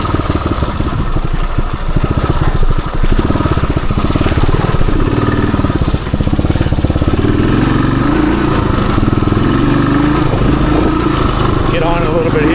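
A 1978 Suzuki DR370 trail bike thumps along a woods trail, its big single-cylinder engine pulsing steadily and loud up close, rising slowly in revs as it pulls ahead.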